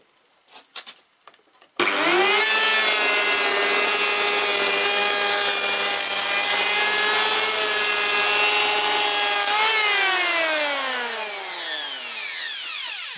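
A SKIL 1590 AA electric planer spins up sharply and planes wood in one long loud pass, a steady whining roar with a high harmonic edge, then winds down slowly at the end after a few faint taps beforehand.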